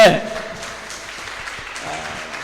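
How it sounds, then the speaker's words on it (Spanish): A church congregation gives a brief round of applause during an evening Bible teaching, a short burst of clapping that quickly thins out under a voice and light background sounds. "Fuerte ese aplauso"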